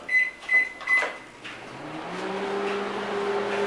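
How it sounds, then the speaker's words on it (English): A microwave oven hums steadily while melting butter in a kitchen, its low drone settling in after a few short beeps and clicks as the door shuts and the timer is set. "I'm going to throw this in the microwave for 20 seconds or so."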